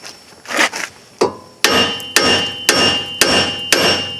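Hammer blows on the front wheel hub of a 2007 Hyundai Santa Fe FWD, struck to break it loose: two lighter taps, then a run of five loud, evenly spaced metallic strikes close by, with no talking.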